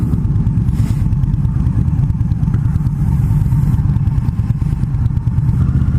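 An Indian Scout motorcycle engine drones steadily with a deep, loud exhaust rumble that holds for the whole stretch, close and continuous, with no voices over it.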